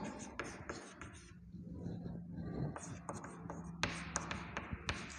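Faint pen or chalk writing on a classroom board during a class 4 maths lesson on data handling, made of soft scratchy strokes and light taps in irregular bursts, close and quiet.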